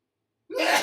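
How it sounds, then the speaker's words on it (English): A single sharp sneeze bursts out after a moment of silence, close and fairly loud. "Hang on, I got to sneeze."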